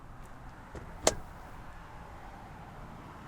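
A handle pulled on a 2017 Honda Ridgeline truck gives one sharp latch click, followed by a quieter clunk, over low background hum.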